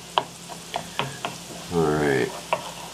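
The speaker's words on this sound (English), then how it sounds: "Smell of frying onions and butter." Steady sizzling of onions frying in butter with occasional stirring clicks and scrapes, a short murmur of speech near the start.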